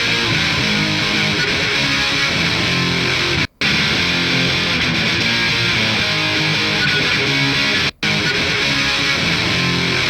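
Heavily distorted electric guitar through layered cabinet impulse responses plays loud, thick chords continuously, with two brief silent gaps where the playing cuts out.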